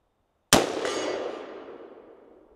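A single unsuppressed shot from a PSA Sabre-10A1 AR-10 rifle with a 14.5-inch barrel in 6.5 Creedmoor, set to loud mode: one sharp, loud crack followed by a long ringing outdoor decay, with no talking.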